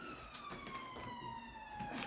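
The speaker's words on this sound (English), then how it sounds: "we've got some sirens in the background" Distant siren wailing faintly in the background, a slow steady descending tone that carries across the whole moment, with quiet room sounds and light knocks nearby.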